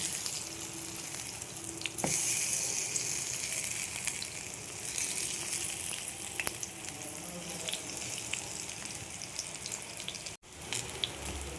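Eggplant slices fry in hot oil in a pan, giving a steady, close sizzle and crackle that runs throughout, with a few sharp clinks of a utensil against the pan.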